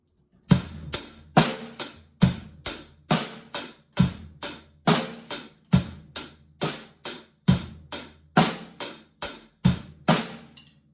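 A drum kit plays a steady basic rock groove, with kick drum on beats 1 and 3, snare and cymbal hits repeating in an even, close, punchy pattern.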